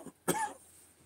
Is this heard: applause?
no